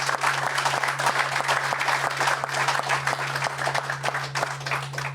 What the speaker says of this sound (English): please let's give them a real applause